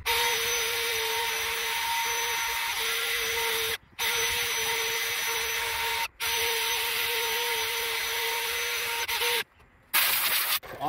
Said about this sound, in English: I'm gonna clean it this way, or you can clean it with a manual wire brush